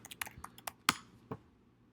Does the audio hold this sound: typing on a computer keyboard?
yes